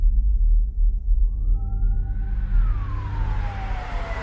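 A lone siren wail rises and then falls away over a low rumble, fairly faint and distant.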